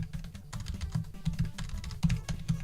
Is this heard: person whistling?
no